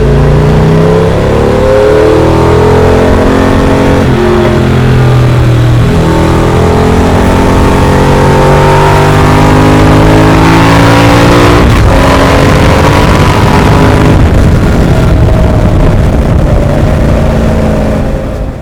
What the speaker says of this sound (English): here's all 7 of those audio tracks played simultaneously